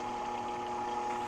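A blender set on low purees eggs, a steady, even motor hum with a churning wash running unbroken and close throughout.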